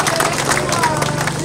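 Dense applause and crowd noise from an audience at an outdoor Uhuru Torch race ceremony in Tanzania, a steady wash of clapping from many hands with babble mixed in throughout.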